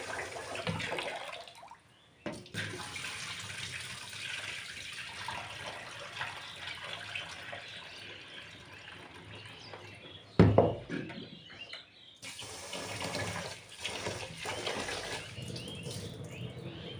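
Continuous sloshing and swishing of water as rice grains are rubbed and stirred by hand, a brief pause, then a splash and more steady rinsing.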